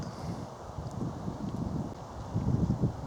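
Wind gusting across open English countryside near tree margins and a bridleway, a steady low rumbling buffet on the microphone that swells stronger toward the end, with no talking.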